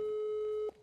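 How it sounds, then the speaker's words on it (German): A steady electronic telephone tone holds for most of a second and then cuts off abruptly, followed by a brief, quieter tone, heard clean with no talking. "Warte, ich telefoniere kurz mit Wiesel."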